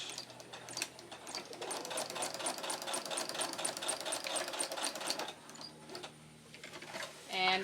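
A sewing machine runs in a steady rapid rattle while back-stitching a Paw Patrol Chase tutu outfit, with a clicking stop near the end and some talk over it.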